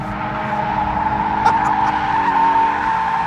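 A 2013 Mazda MX-5 Club driven hard has its tires squealing steadily through a corner, a loud sustained screech over the engine's drone with a brief rise in the middle.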